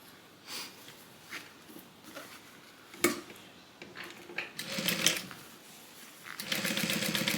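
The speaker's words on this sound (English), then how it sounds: "we're going to do a top stitch" A home sewing machine top stitching along vinyl on a divider bag, starting with faint scattered clicks and handling noise before a steady whirring stitch run begins near the end, close up.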